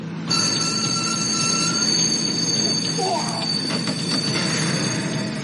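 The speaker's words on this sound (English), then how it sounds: "The train comes to an abrupt stop at Itami Station." A runaway train brakes to an abrupt stop at Itami Station, grinding with a loud, continuous metallic screech of wheels and brakes over a heavy rumble, sustained throughout.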